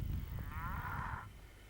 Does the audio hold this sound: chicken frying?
no